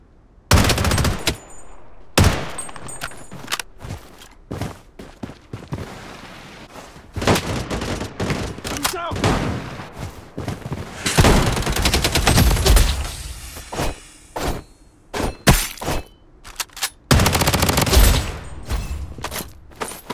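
Gunfire in the mobile shooter Bloodstrike, loud bursts of automatic shots and single cracks coming in irregular clusters with short quiet gaps between them.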